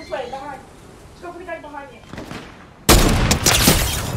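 Gunfire in the Fortnite video game breaks out as a sudden loud, dense burst of shots that keeps going after a stretch of voice over quieter game sounds.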